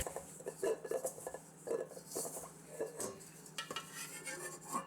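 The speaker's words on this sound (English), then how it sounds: "We mix in the wine a little bit at a time until the dough has a nice crumbly consistency." Cannoli dough being mixed by hand as Marsala wine is added bit by bit, heard as soft, rhythmic scraping and stirring strokes against a bowl, quiet and close, with no voices.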